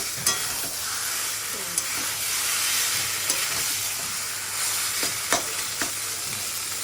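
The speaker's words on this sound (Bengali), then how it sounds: "কচুর শাক হয়ে গেছে, এই যে কড়াই থেকে ছেড়ে যাচ্ছে" Taro leaves cook in a wok with a steady soft sizzle, and a spatula scrapes and stirs the pan in sharp, irregular strokes close by.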